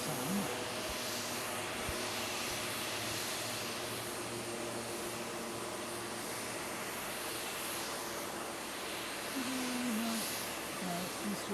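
A twin-engine aircraft with a long, glider-like wing flies past near Nagasaki Airport, its engine drone a steady, moderately distant roar that holds evenly throughout, with faint tonal whines rising and falling near the end.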